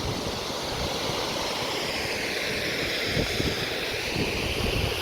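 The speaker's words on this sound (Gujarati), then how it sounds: "જો કેટલું મસ્ત પાણી આવે છે અહીં." Water rushing at a village waterfall near Vadod, a steady broadband roar of flowing and splashing water mixed with some wind buffeting on the microphone, continuous and fairly quiet with no talking.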